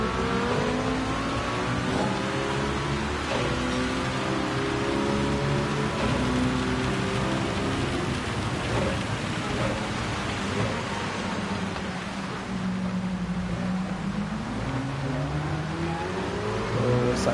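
Lamborghini race car engine in Gran Turismo 7 during a Manufacturers series race, a loud continuous high-pitched revving with rising and falling pitch through shifts, dense with overlapping engine and road noise throughout.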